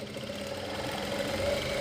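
A sewing machine stitches a kurti collar with a steady, close mechanical whirr that holds even throughout, with no talking.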